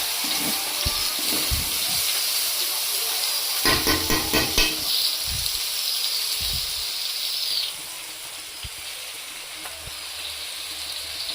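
Kalai greens are stirred and fried in a pan, with scraping stirs and clattering against the metal over a bright sizzle that drops quieter partway through.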